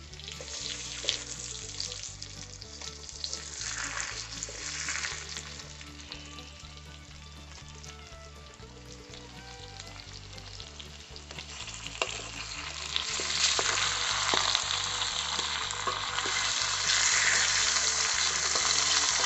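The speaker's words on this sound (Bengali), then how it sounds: "চিকেনগুলো দিয়ে মশলার সাথে সুন্দর করে কষিয়ে নিতে হবে।" About a kilogram of washed chicken sizzles loudly as it is sautéed in ground spice masala for a Bengali chicken curry, a steady crackling fry with stirring scrapes that grows denser and louder toward the end; no one speaks.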